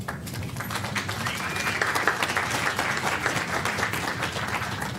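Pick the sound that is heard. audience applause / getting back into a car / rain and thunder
audience applause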